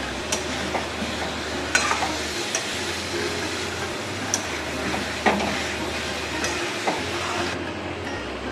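Coconut paste with ground coriander, cumin, turmeric and chilli sautéing in a pan for elephant foot yam curry, a steady close sizzle broken by occasional scrapes and stirring knocks.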